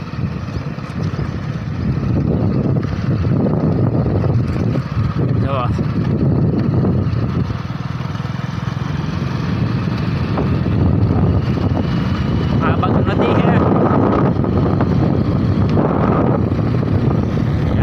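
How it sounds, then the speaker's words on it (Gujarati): A tractor pulling a tar trailer drives along a rural road past fields, its engine a steady low rumble mixed with wind buffeting the microphone while someone talks over it. "હવે ટ્રેક્ટર જાય છે ડામરનું ટેલર છે"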